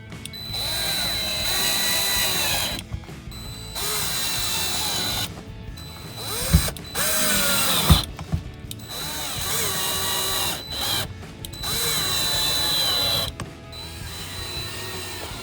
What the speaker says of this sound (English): before you do any drilling and screwing